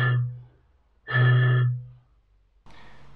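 Two low, breathy hollow tones from blowing across the mouth of an even bigger, taller bottle, each a steady hum of about half a second with a gap between, then a breathy noise at the end.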